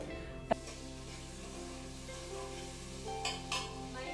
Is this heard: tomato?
yes